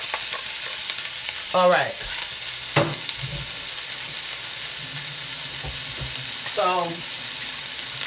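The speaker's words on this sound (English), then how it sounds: "we going to wait for this olive oil to be nice and hot like it is. Then we dump our onions in there." Onions frying in hot olive oil as a steady, close sizzle under brief stretches of someone talking, with a couple of clunks from the pan.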